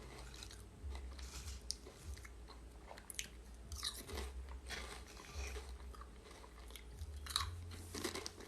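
Crunchy food being chewed close to the mic, with repeated bites and grinding crunches in an uneven rhythm throughout, and no talking.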